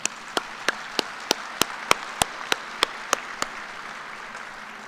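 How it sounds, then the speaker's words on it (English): Audience applause for the platform party at a graduate school fall commencement ceremony: a hall full of clapping with a few sharp, evenly spaced louder claps standing out near the front before it thins away. "Please join me in giving our platform party a round of applause"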